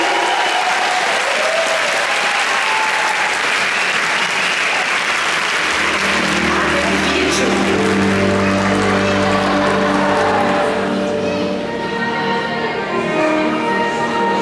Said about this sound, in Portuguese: eu quero que vocês recebam agora com muito carinho e um aplauso muito grande para eles